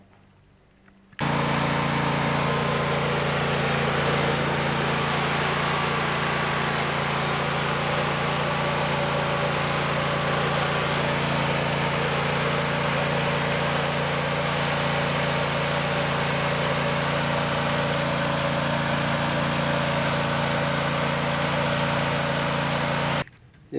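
An old Craftsman riding lawn tractor engine idles steadily for over twenty seconds, a constant even drone with no talk over it.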